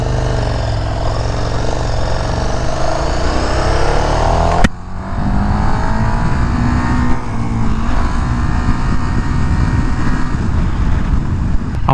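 KTM 1290 Super Duke R Evo engine droning loud and steady while riding, with rising pitch sweeps as it climbs through the revs and a brief break near the middle, set against continuous wind rush.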